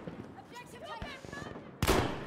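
Gunfire in Battlefield V: a sharp, loud burst of shots erupts near the end, after a stretch of faint game noise and muffled voices talking.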